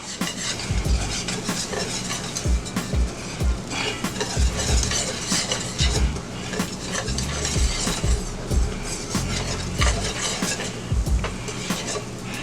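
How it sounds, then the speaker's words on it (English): Flour being worked into melted butter in a pan for a roux, continuous busy stirring and scraping with frequent utensil knocks against the pan, fairly loud and close, a faint sizzle underneath. "Start mixing it up a little bit. Mix it in with that butter."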